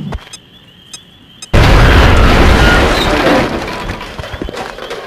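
A thrown grenade detonates in XCOM combat, a sudden loud boom after a quiet moment, followed by a long rumbling decay.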